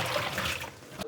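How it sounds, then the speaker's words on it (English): Leftover descaling solution poured out of a Keurig K Supreme water reservoir, a brief close splashing gush of liquid into a sink that cuts off abruptly. "Next, let's dump out the reservoir with the remaining solution"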